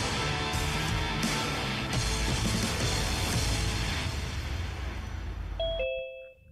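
Two-tone doorbell ding-dong chime near the end, sounding after a steady stretch of broadband background noise, with the chime tones ringing briefly before fading into silence.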